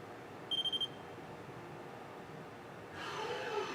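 A Renishaw CNC touch probe beeps on contact, a quick run of about four short high tones against a quiet machine hum. A faint whirring motion sound rises afterward.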